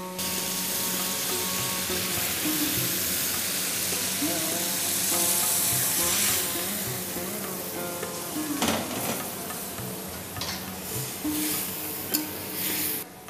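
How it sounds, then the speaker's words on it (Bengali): Coconut milk stirred into prawn malaikari masala frying in a pan, producing a loud continuous sizzle with scraping stir strokes and a few sharper spits, faint talk underneath. "একটা নারকেলের দুধ এর মধ্যে দেওয়া হলো। নারকেলের দুধটা দেওয়ার পর ভালো করে মিশিয়ে নিভু আঁচে আপনাদের রান্না করতে হবে।"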